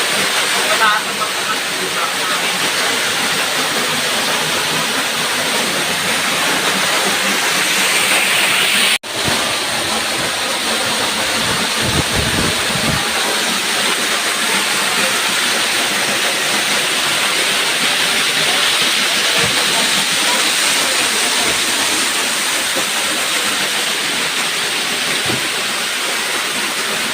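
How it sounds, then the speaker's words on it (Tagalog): Guhab Falls roars as a broad, steady rush of falling water, loud and close, with a brief knock partway through and people talking faintly over it. "Ito ang tinatawag na Guhab Falls."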